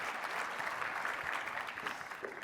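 Audience applause at a presentation on a federal comprehensive care initiative, a brief, even spatter of many hands clapping, faint and distant throughout.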